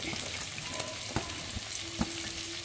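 Onions cook in a pan for a seema chintakaya curry, a soft continuous sizzle with a few light clicks of a spoon against the pan, quiet and without speech.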